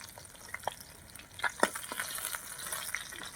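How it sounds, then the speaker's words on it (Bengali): Fish fry in hot oil in a Bengali home kitchen, giving a steady low sizzle with scattered sharp pops and crackles throughout, moderately close and with no talking. "মাছগুলো লাল লাল করে ভেজে নিচ্ছি"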